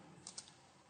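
A few soft computer keyboard keystrokes, about three quiet taps in under a second, as a git commit command is entered.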